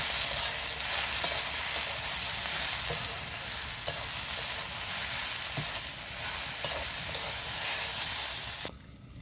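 Okra curry being stirred in a pan after salt and turmeric go in, a steady close sizzle with scraping spoon strokes throughout, no voices, cutting off at the very end.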